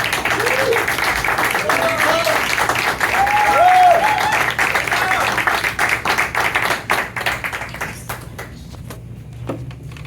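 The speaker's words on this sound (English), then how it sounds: "I hope you'll give him a big round of applause as he comes up here" An audience gives a round of applause as a speaker comes up to the stage, dense clapping that thins into scattered claps before fading out.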